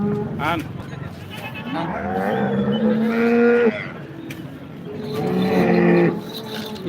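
Cattle at an open-air cow market call out with long, loud moos and lowing, one nearer and another answering later, under a bustle of market chatter and nearby voices.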